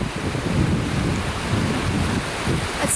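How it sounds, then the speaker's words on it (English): Rushing water at the top of the tallest waterfall in Iceland, a steady loud broadband roar with heavy wind buffeting on the microphone and no voices. "That is the top of the tallest waterfall in Iceland."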